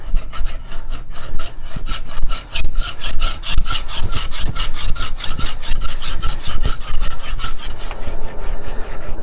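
Steel knife blade edge bevel being filed, a loud close rasp repeated in rapid rhythmic strokes, each pass a harsh grinding scrape, continuing steadily and easing slightly toward the end.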